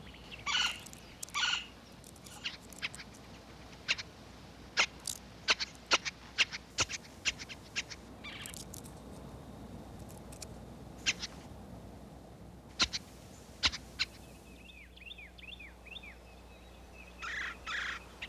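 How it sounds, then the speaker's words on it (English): A golden-fronted woodpecker in wooded Texas country gives loud, brash calls: sharp, scattered rattling bursts and quick chattering notes at irregular intervals over quiet outdoor background, with no voices. "like many woodpeckers, the golden-fronted can be brash and noisy"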